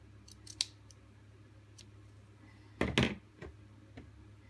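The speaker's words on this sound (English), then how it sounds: "I fold mine in half, and I make a angled cut" Scissors make angled cuts on the ends of folded ribbon for a boutique bow, with a few light snips early and a louder close crunching cut, then single faint clicks in a quiet room.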